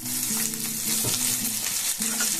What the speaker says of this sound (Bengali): একটুখানি আবার নাড়াচাড়া করে পেঁয়াজগুলোকে একটু নরম হতে দেবো